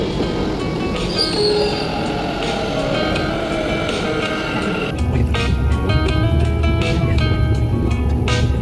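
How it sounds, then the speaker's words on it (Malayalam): A Bangalore metro train at a station gives a steady, rumbling rail hum with faint squeals. It grows louder and fuller about halfway through as the train moves, and no voices are heard. "Bangalore metro station"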